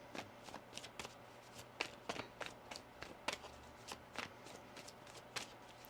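Soft, repeated card-handling snaps and flicks in an irregular rhythm, quiet and close, with a faint background hum.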